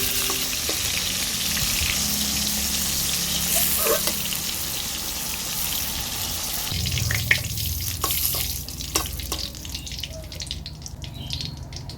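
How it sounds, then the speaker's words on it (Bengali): Pointed gourd (potol) frying in hot oil, a steady close sizzle with scattered crackles and stirring scrapes over about twelve seconds, easing slightly toward the end. "তো ফ্রেন্ডস, পটলগুলো দেখো ভাজা হয়ে গেছে।"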